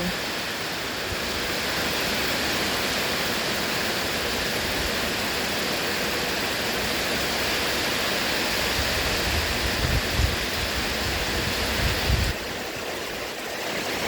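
Steady, dense rushing hiss of heavy rain pouring continuously, with a few deeper splashing thumps near the end before it eases slightly.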